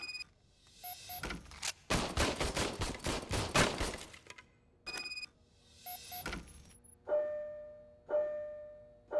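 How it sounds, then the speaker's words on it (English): A service pistol fires in RoboCop Rogue City, starting with a fast burst of shots, then single loud reports with short pauses and metallic ringing tails in between. "I was issued this old gun and serviced it according to the manual. I will try it out."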